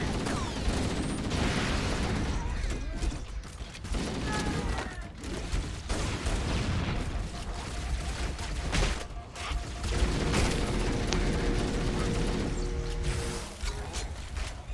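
Grenade blast and gunfire in Halo: Combat Evolved, with dense bursts of shooting and mechanical clatter running throughout under players talking.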